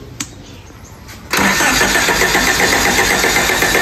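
A vehicle engine being repaired at the ignition coil after stalling cranks and catches with a loud burst, then keeps running at a steady, close, rough idle after a faint click.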